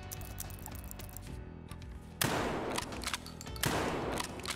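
Video-game KS-23 shotgun firing barricade ammo in an armor test, two heavy booming blasts about a second and a half apart, each with a long decaying tail over constant game background noise.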